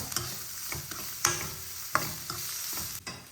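Finely chopped onion frying in a pan as curry is cooked, heard as a low continuous sizzle broken by a few distinct scrapes and knocks from stirring, close and quiet, with no talking.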